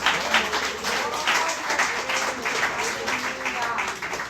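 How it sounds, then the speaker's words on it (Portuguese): Church congregation applauding together during a Sunday service, a steady wash of many hands clapping that holds for several seconds, with a speaking voice running underneath. "Uma salva de palmas a Ele."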